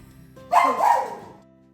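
A pet dog excited by people in a garage gives one short burst of barking, loud and close, with no talk over it.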